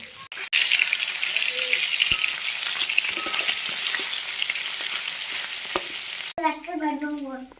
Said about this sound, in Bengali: তো দেখো এই যে আবার মাছ ভাজা হয়ে গেছে